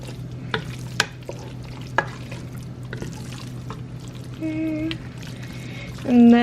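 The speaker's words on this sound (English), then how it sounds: "this is a little hard to mix because one of the pastas, I guess, overcooked a little" Pink-sauced pasta, some of it slightly overcooked, being stirred and mixed during meal prep: scattered soft scrapes and clinks over a low steady hum, with a brief tone and a louder swell near the end.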